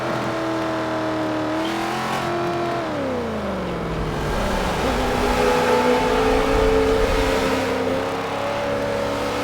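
A racing video game car engine drones steadily and loud, its pitch rising and falling through gear changes before settling into a sustained high whine, with no talk over it.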